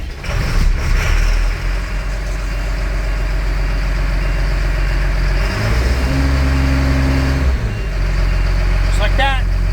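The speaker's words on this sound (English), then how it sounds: "What does a new rebuilt engine sound like, you might ask?" A newly rebuilt car engine on a farm starts up and runs with a steady loud idle, then revs in a few strong bursts before settling, heard close up with no talking.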